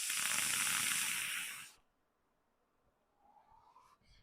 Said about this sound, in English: it has got a bit of a crackle sizzle, if you can hear that